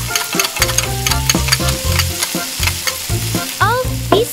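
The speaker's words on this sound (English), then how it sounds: "Then add the squid when the sauce is boiling." Squid and spices frying in a pan while being stirred: a steady sizzle with repeated scraping and clacking strokes of the utensil, close and fairly loud, with no talking.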